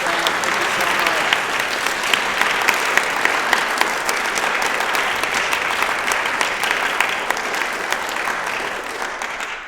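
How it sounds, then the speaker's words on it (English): An audience claps steadily for the staff at a 2022 music camp concert, a dense, sustained round of applause that fills the whole stretch before tapering slightly at the end. "Another round of applause for the staff."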